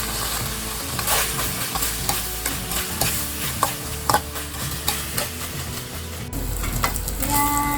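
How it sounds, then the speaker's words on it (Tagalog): Meat for Bicol adobo, made without soy sauce, fries in a little oil, giving a steady close sizzle with repeated scraping and clanking as it is stirred in the pan. "Yan, para maprito-prito na siya."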